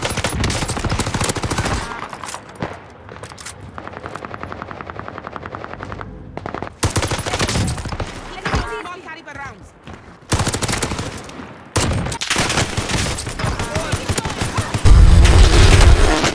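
BAR rifle fire in Call of Duty Warzone, loud heavy bursts of close automatic shots separated by short pauses, with other weapons rattling amid the fight and a voice briefly heard.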